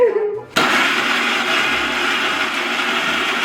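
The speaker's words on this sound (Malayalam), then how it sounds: "ഇതുണ്ടോ നല്ല മിക്സിയിൽ അടിച്ചെടുത്തിട്ട് നല്ല കൃത്യമായിട്ട് പൾപ്പായി വന്നിട്ടുണ്ട്" Mango pulp blended in an electric mixer grinder: after a brief quieter start, the motor kicks in abruptly with a loud, steady, close whirring roar that holds to the end.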